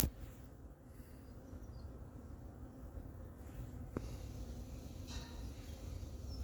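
Honey bees swarm and buzz in an opened hive during sugar feeding at an apiary, giving a faint, steady low drone with a few brief sharp taps, without any talk.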